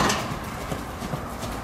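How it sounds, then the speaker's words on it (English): A horse trots during a riding lesson, its hooves striking in a quick, regular clip-clop rhythm that sounds close and clear, with no talking over it. "your horse keeps trotting."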